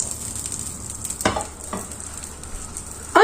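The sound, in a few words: apple slices cooking in butter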